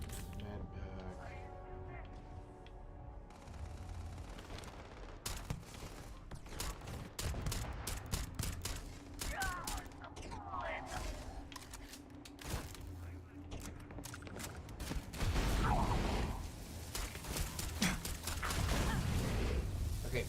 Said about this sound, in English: please stop shooting that at me